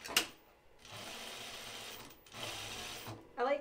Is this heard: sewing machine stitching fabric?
yes